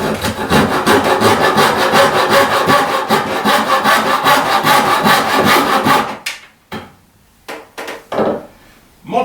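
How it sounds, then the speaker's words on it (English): A hand saw cuts wood clamped on a Roman-style Saalburg carpenter's bench, fast rhythmic rasping strokes close and loud for about six seconds, then a few separate slower strokes with pauses. "Use a saw on it."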